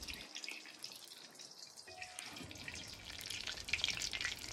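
Cumin seeds (zeera) hit warm oil outdoors, starting a steady broadband crackling sizzle that builds in loudness and stays close throughout.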